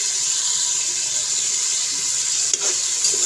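Bright, steady hiss and sizzle of onions frying in a pan for a mixed vegetable curry, with a brief clatter of stirring near the end, close and fairly loud.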